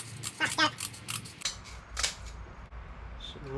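Scissors snip through sheet material for a traditional hot rod A/C build, several short crisp cuts in quick succession with a pause near the end, close to the mic and heard alone.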